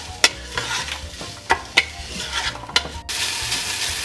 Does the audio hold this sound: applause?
no